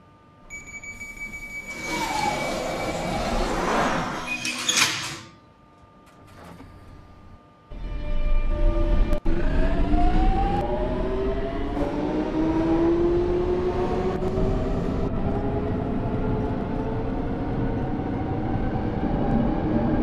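Simulated London Underground Jubilee Line train in the OpenBVE simulator, a loud rumbling run with rising motor whine and pitch sweeps, steady and close throughout after a brief quieter gap.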